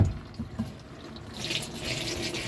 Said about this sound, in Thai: เอาสายยางรถหนัก ๆ เลย